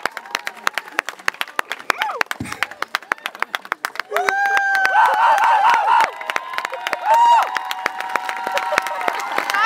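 A talent-show crowd claps steadily for a gymnastics group from Aruküla, Estonia, with cheers and shouting rising over the applause and a voice calling out amid the noise.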